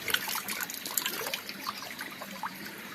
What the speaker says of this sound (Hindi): बिल्कुल साफ आ ही रहा है पानी